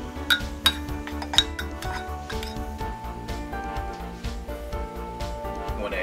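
Cocoa powder and sugar are stirred with a spoon in a mug: quick repeated ceramic clinks and scraping taps in an uneven rhythm, close and fairly loud, the pace slowing toward the end, with no talking.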